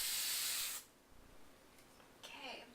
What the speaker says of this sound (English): then I'm just going to spray it with hairspray